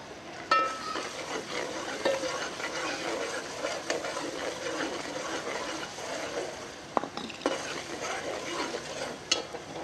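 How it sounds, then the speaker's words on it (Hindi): Finely chopped green chillies hit a pan of frying aloo keema, giving a steady close sizzle with a few scraping stirs and light clinks. "छः 7 बारीक कटी हुई हरी मिर्चें हैं मेरे पास, इसमें डाल देंगे"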